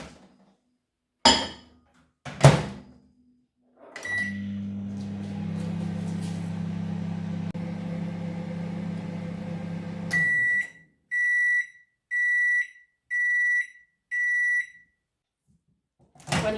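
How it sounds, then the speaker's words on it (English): A microwave oven melting cooking fat in a mug: a couple of door clicks, then a steady low hum while it runs for several seconds, followed by five evenly spaced loud beeps when it finishes. "I'm going to pop this into the microwave to melt for a few seconds."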